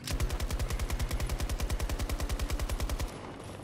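A rapid machine-gun burst in Battlefield 2042, a steady run of about thirty evenly spaced shots over three seconds, loud and close, that stops abruptly.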